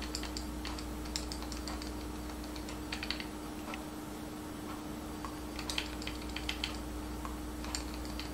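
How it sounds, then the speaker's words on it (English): Soft, fairly distant clicks of a computer keyboard come in irregular bursts as an IP address is typed, over a steady low hum. "I'm just going to use a keyboard"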